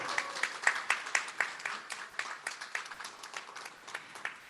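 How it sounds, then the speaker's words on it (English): An audience at a club meetup claps to welcome a new member, starting with distinct, fairly quick individual hand claps, then thinning into scattered, quieter claps; modest-sized group, moderately close. "Let's give a big round of applause."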